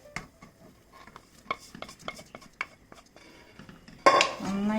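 Roasted broken wheat tipped into a pot of boiling water and stirred for wheat upma: a run of light clinks and scrapes of a spoon against the pot, then a sudden louder hiss and bubbling near the end.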